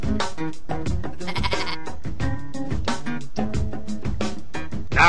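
In the Pumpkin Land video game, a sheep bleats repeatedly in time with bouncy, rhythmic game music that plays throughout.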